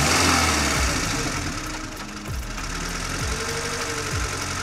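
A vehicle engine bought as a lost cargo auction item runs steadily while gears are shifted through first to fourth and reverse, with knocking thuds and clunks over a loud continuous drone.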